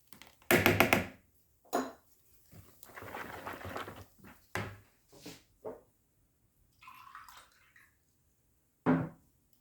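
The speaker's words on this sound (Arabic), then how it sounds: "غادي نضيف واحد نصف كاس ديال الماء" Water is poured into a batter mixture for baghrir, heard as a series of short splashing and pouring bursts with gaps between, close and moderately loud, mixed with clinks and thuds.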